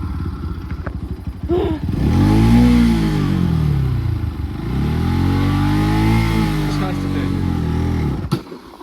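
A Bajaj Pulsar NS200 motorcycle engine revs up and holds high rpm in two long sweeping surges, close and loud, with a brief clatter before and after.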